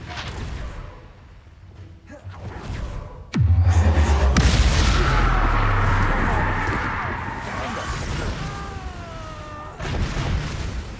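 A Confringo spell explosion in the wizarding game Hogwarts Legacy. A sudden loud boom erupts and rolls on as a sustained rumbling blast, followed by lingering crackle and other game effects, with voices speaking around it.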